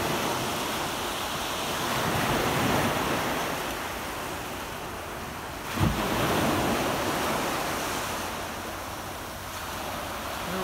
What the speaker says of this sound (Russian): И волны небольшие.